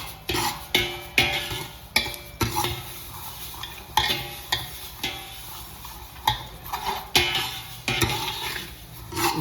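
Flax seeds roasting in a pan and stirred continually, a dry rattling scrape with repeated sharp strokes over a steady sizzling hiss, close and moderately loud, with no voices.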